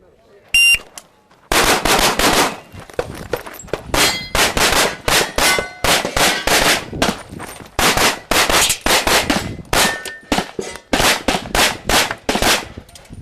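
IPSC pistol shooting on a stage with steel targets, including swinging steel plates about 15 meters out: a long fast string of loud shots with metallic clangs ringing back, in rapid bursts broken by short gaps.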